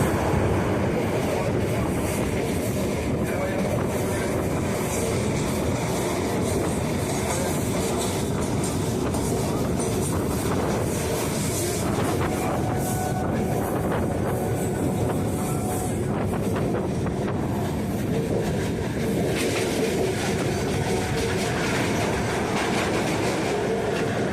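A Kolkata local train runs from Dum Dum Cantonment toward Sealdah, its steady loud rumble and clickety-clack on the rails continuing for the whole stretch, heard from on board with no talk.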